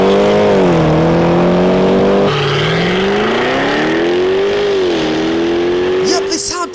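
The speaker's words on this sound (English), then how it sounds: "Rover Sport SVR is a very loud car in real life because it's powered by the exact same engine found in the Jaguar F-Type V8" Supercharged V8 of a Range Rover Sport SVR in Forza Horizon 5, the same engine as the Jaguar F-Type V8, holds a loud steady drone whose pitch rises and falls with the revs, close and continuous throughout, with a brief rattle near the end.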